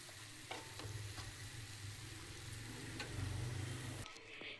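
Okra seasoned with salt, turmeric and chili sizzles steadily in a hot pan, a dense continuous frying hiss with occasional stirring scrapes, close and fairly loud, briefly cutting off near the end.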